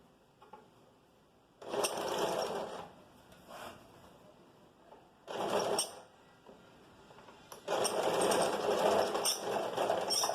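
Sewing machine stitching the lining of a vest, three bursts of rapid mechanical whirring separated by quiet pauses, close and alone with no talking.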